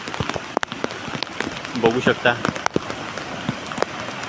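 Heavy first monsoon rain falls steadily on Kelus Kalvi Bandar beach in Konkan, a close, constant patter and hiss, briefly overlaid by a man's short spoken phrase.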